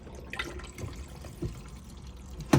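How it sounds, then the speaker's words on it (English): A caravan cassette toilet's electric pump pushes fresh water around the bowl, a steady close-up trickling and gurgling wash that ends in a brief louder splash. "You quite literally just press this button, the pump will just pump fresh water around"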